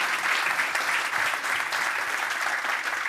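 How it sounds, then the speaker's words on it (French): Audience applause at a French business conference event, a dense, steady wash of clapping from a sizable crowd, fairly close and even throughout. "On peut l'applaudir."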